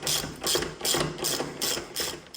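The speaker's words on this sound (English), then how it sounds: "Then I just remove the axle nut on this side." Ratchet wrench removing the axle nut on a Suzuki V-Strom motorcycle, six quick clicking bursts in an even back-and-forth rhythm, close and clear with no talk.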